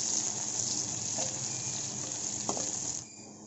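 Salted onions fry in a pan with a steady, moderate sizzle and a faint scrape or two, close by and without talk, the hiss dropping slightly near the end.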